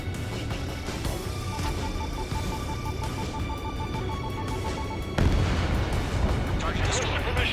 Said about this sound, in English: They got their anti-air guns aimed right at us.